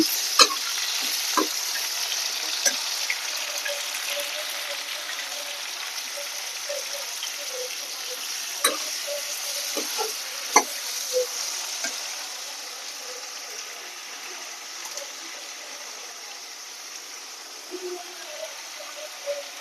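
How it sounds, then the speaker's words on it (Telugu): Tomato pieces sauté in a pan with a soft, steady sizzle. Occasional sharp clicks and taps of a spoon against the pan break through, and the sizzle eases slightly toward the end. "ఈ మగ్గిన దాంట్లో ఈ టమాటా ముక్కలు కూడా వేసుకోవాలి. ఇవి కూడా బాగా మగ్గాలి."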